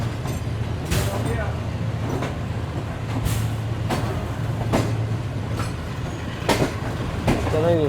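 Shalimar Express passenger train rolling along the rails, heard from inside as a constant low rumble punctuated by sharp, regularly spaced clacks over rail joints, with a faint squeal near the end.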